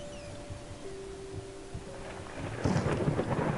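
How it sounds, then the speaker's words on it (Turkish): A low, distant rumble of thunder in the video game Layers of Fear builds and swells toward the end, with a faint tone and rain-like hiss beneath. "şu gök gürültüsü beni öldürüyor ya çok hoşuma gidiyor şu gök gürültüsü"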